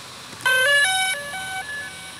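A DJI Spark drone plays its startup chime after being powered on, a short series of clear electronic tones stepping through a melody, moderately loud over faint background hiss, with no speech.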